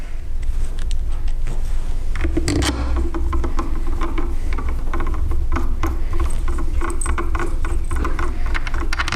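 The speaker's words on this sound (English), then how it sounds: "I like to get them all started and then tighten them up one at a time." Screws being tightened one at a time on the cover of a Makita router, a steady run of creaks, small rattles and mechanical clicks, close and fairly loud.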